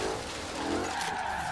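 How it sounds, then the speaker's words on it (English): A slammed, stanced Audi RS4 in Forza Horizon 3 spins its wheels at launch, giving a brief loud tire squeal over a roaring engine. "A little bit of wheel spin off the hop."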